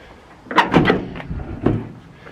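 The door of a 1963 Chevy C30 truck swings shut with a few quick metallic clunks and rattles close by, followed by one more thud as it settles.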